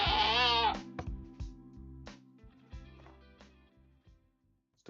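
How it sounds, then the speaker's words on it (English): A screaming goat mob in a Minecraft-style game lets out a loud, wavering bleat-scream near the start, then musical tones and soft thumps play on without any talking. "We don't have the regular goat, but we have the screaming one."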